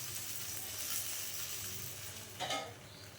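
Appe cooking in an appe pan give a quiet, steady sizzle close by, with a brief louder hiss and scrape near the end.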